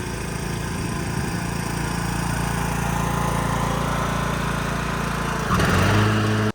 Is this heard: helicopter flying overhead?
no